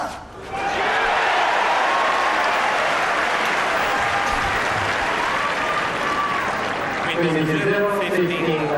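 A large tennis crowd at the 2006 Rome final applauds Federer in sustained, loud, dense clapping that swells and holds for several seconds, with cheering voices mixed in toward the end.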